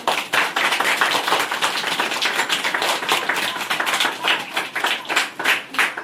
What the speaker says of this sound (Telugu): పిల్లలందరూ చప్పట్లు కొట్టండి అమ్మా.